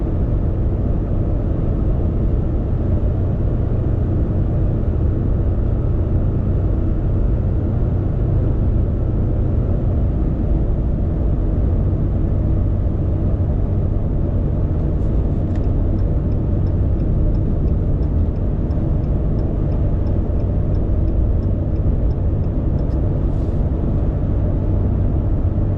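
A 2020 Ram 1500 EcoDiesel pickup tows a Kubota M4-071 tractor near maximum capacity, its steady low engine drone and road rumble continuous and loud from start to finish.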